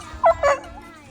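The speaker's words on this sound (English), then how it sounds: "This is our black lab puppy" A black Labrador puppy almost a year old gives two quick, high yips, close by and brief, against a quiet farmyard background.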